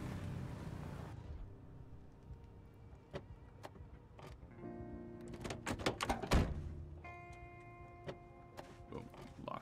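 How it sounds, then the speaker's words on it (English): In Project Zomboid, a car door slams shut and its lock clicks, leaving sharp mechanical clunks and rattles over a quiet idle hum. A brief louder cluster of knocks follows midway. "Lock that door."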